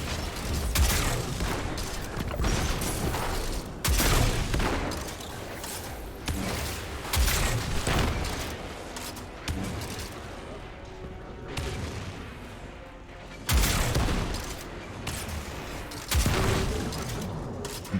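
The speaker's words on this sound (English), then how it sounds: "I'm going to use grenades and my grenade launcher for now." Grenade and grenade-launcher explosions burst in the video game Destiny 2, sharp loud booms landing every second or two amid gunfire, clatter and game sound effects, with spells of quieter ambience between.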